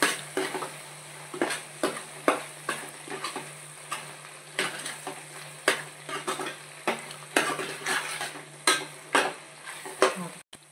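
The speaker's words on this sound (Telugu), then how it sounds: "మసాలా వేగిందండి" Masala with curry leaves and green chillies fries in a pan for a fish curry, with a quiet sizzle and a close spoon scraping the pan in repeated strokes, each one a sharp clink, with no voice.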